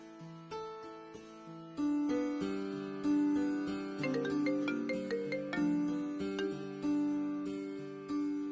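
A mobile phone ringtone plays a bright, repeating melody, steady and fairly close in a quiet indoor room, with no talking over it.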